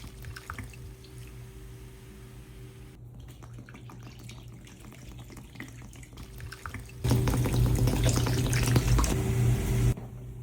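Red Stripe beer being poured over a turkey to soak it gives a faint, steady liquid trickle that swells into a louder, fuller pour for a few seconds near the end.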